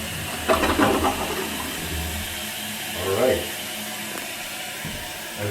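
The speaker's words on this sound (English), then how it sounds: "I'm going to do a practice flush just to make sure we're all good." A newly installed toilet given a practice flush, then a steady rush of water as the tank refills; a voice speaks briefly.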